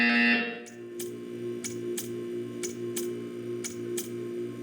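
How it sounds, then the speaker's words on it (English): A loud electronic buzz opens the sound in the Portal 2 video game, then cuts off and gives way to a steady low hum with regular ticking clicks about twice a second. "You will hear a buzzer. When you hear the buzzer, stare at the art."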